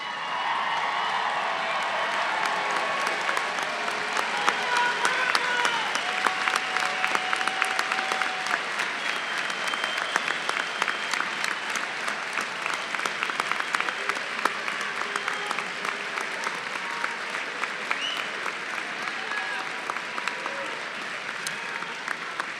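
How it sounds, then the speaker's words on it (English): Sustained standing ovation from a large audience at the Class of 2014 UMBC commencement ceremony, dense loud clapping filling the hall for over twenty seconds, with a few scattered cheers mixed in. "Let's give them one more standing ovation, folks"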